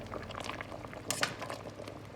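Chicken gravy thickening over heat in a pot for chicken and noodles, giving a soft continuous bubbling simmer at low level with a brief louder clink or splash near the middle.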